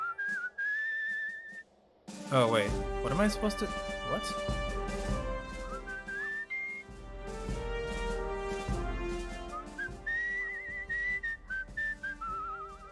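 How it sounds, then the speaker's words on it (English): A player character whistles a tune in the video game Where the Water Tastes Like Wine, heard in bursts over steady game music while someone speaks briefly. "So, I can whistle."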